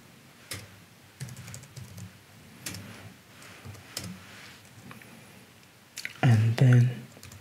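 Scattered keystrokes on a computer keyboard while code is typed, light irregular clicks with pauses between, followed by a brief louder burst of voice near the end.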